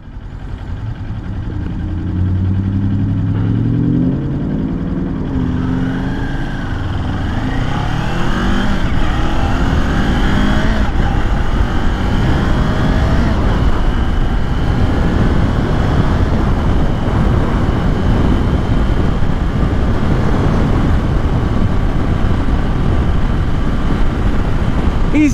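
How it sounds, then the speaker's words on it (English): A 2022 Kawasaki Ninja 400 KRT 400cc motorcycle pulls away and accelerates on a rural road, engine pitch climbing through gears before settling into a loud, steady ride with strong wind rush. "The throttle response on this thing is insane. Like, for a 400cc motorcycle"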